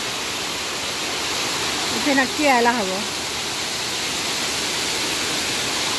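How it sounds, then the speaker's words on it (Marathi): Waterfall at a scenic falls in Shillong, Meghalaya, heard as a constant broad roar of rushing water that fills the scene, with a person briefly speaking over it midway. "पाण्याचा जो खळाळता निर्झराचा जो आवाज येतो आहे त्याने खूप छान वाटतं आहे"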